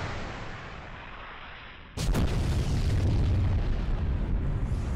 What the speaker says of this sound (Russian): Это бомба, да, наверное?